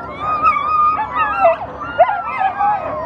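Sled dogs at the start of the Fur Rondy Open World Championship race howl, yip and whimper together in a close, excited chorus, with rising and falling howls overlapping throughout.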